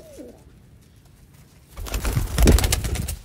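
Rooftop pigeons coo in low, throaty bursts that grow louder and nearer toward the end. The start is quieter, with a faint call.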